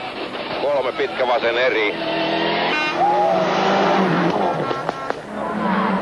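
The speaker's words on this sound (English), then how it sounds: "Tommy Mackinnon's Mitsubishi led the cars into the first of the rally's 18 stages" A Mitsubishi rally car's engine revs and whines through gear changes on tarmac at Rally Catalunya 1997, at close range, loud and continuous, with a commentator talking over it.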